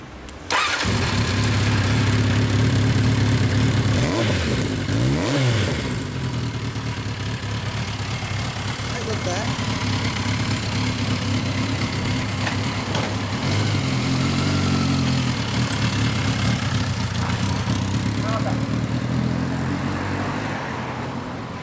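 A Kawasaki Zephyr 1100 motorcycle with an aftermarket exhaust idles steadily up close outdoors, with a couple of sharp throttle blips early on and a rumbling, uneven low-pitched burble throughout.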